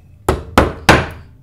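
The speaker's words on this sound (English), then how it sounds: "They'll be hammering it." A mallet strikes a chisel three times while a heraldic scallop is carved, each sharp, close knock ringing briefly before the next.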